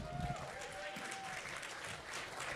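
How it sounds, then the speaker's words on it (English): Audience applause for a comedian at a correspondents' dinner event, a fairly faint, steady patter of clapping from a crowd, continuous with a brief tone in the background. "Start clapping. Come on, start clapping."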